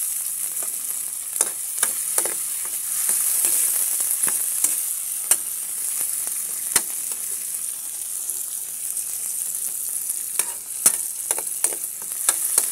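Tomatoes frying in a pan for bagoong give a continuous hissing sizzle broken by sharp spatula clicks and scrapes against the pan, close up and without talk.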